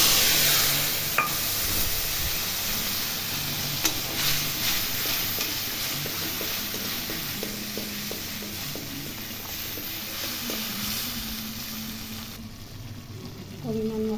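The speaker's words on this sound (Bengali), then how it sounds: "এখন এটা কষাবো, যতক্ষণ না তেল ছাড়ছে ততক্ষণ কষাতে থাকবো।" Spice paste with salt and turmeric fries in hot oil in a pan while being stirred, a dense close sizzle with scraping and soft knocks throughout, running steadily for the whole stretch.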